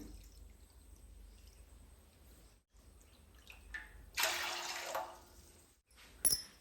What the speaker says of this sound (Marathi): आपण 5 वाट्या पाणी मोजून ठेवणार आहे।